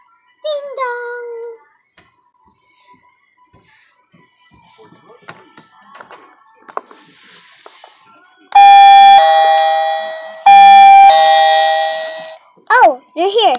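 A doorbell chimes loudly in a home, two long ding-dong tones ringing one after another, with a voice and other soft talk before and after.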